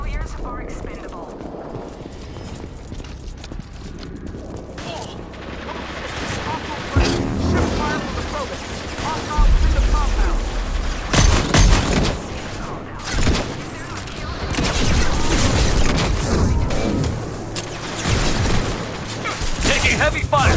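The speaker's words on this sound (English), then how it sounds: "Taking heavy fire!" Heavy gunfire fills combat in the video game Mass Effect 2, with dense bursts of shots and booming blasts that keep building, while character voices shout over the loud battle.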